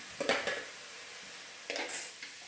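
A spatula scrapes a pan as turmeric and chili powder are sautéed for a snake gourd curry. Two short clusters of stirring scrapes sound quiet and close, with a faint sizzle between them.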